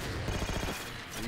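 Rapid pistol fire in Halo 4, a quick burst of sharp repeated shots in game combat, loud and close amid background game noise.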